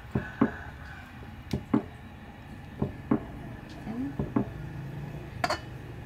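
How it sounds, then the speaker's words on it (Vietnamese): A knife chops through rice-flour dough for Vietnamese bánh canh with chicken, giving sharp irregular knocks on a cutting board about once a second, close and fairly loud over a faint background murmur. "Hôm nay chúng ta lại xắt bánh canh tiếp."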